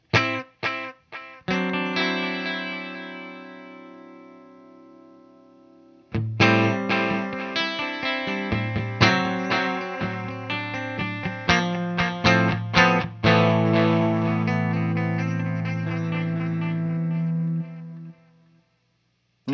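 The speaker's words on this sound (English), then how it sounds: "It's adding a little bit of light distortion on it." An electric guitar is played through a pedal adding light distortion, with picked notes and chords ringing out close and clear, a short pause, then a longer run of struck chords that sustain and decay.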